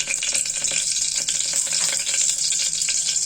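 Curry leaves and garlic dropped into hot oil with mustard seeds for alasande bele sambar, a loud, steady close-up sizzle with fine crackling spits throughout, no voices.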